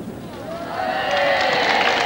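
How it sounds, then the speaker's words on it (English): Spectators outside a royal wedding cheer as the bride arrives, a rising wash of distant crowd voices and whistles that grows louder over a couple of seconds. "And a lovely cheer from the crowd there."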